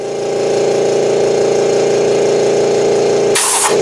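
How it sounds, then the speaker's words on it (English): Compressed air hisses in a loud, continuous blast, blowing sawdust off freshly sanded cherry wood spice boxes in a woodshop, then cuts off sharply near the end with a brief higher burst. "They're covered with dust, and so I'm blowing the dust off."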